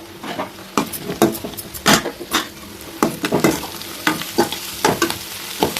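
Potato rice ingredients fry in a pan on the stove, with repeated stirring strokes and scrapes over a steady sizzle, close and fairly loud with no talking.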